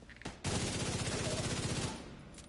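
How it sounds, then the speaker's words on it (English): An assault rifle fires in The Division 2 video game as a loud, rapid burst of automatic gunfire lasting over a second, with fast evenly spaced shots followed by a fading tail. "Still getting used to this assault rifle."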